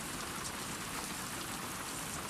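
Soft, steady rain falls in a foggy environment of The Last of Us Part II, a faint, even hiss of drops with no voices over it.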